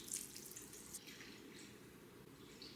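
Room-temperature bottled water pours into a sourdough starter as a soft, continuous trickle and splash, quiet and close, with no talking.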